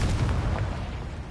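A blasting spell explosion in Hogwarts Legacy, a deep rumbling boom with low, rolling energy that decays over about a second.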